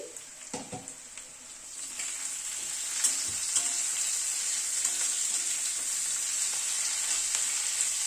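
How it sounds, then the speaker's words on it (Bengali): Radish and flat beans sizzle and fry in a hot pan, a constant bright crackling hiss with a few clanks and stirring knocks early on. "মূলোটা শিমটা অনেকটাই ভাজা ভাজা মতো হয়ে এসছে।"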